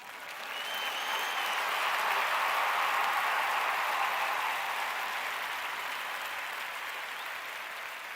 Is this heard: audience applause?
yes